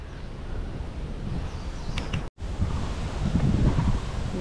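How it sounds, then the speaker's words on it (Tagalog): Strong wind buffets the microphone in a steady, roaring rush, dropping out for an instant midway, with no voices, outdoors in Taiwan. "Naku, malakas ang hangin"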